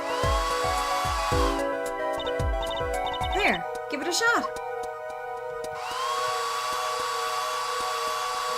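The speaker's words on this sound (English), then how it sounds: "Just press space to blast it with that dryer." A hair dryer blasts plaster in the Apollo Justice video game with a steady, loud whoosh at the start and again near the end. Someone speaks over electronic game blips in between.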